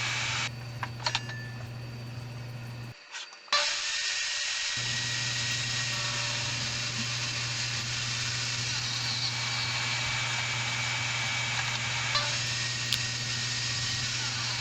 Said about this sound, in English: So I'm just making the edges as flat as possible using the table saw.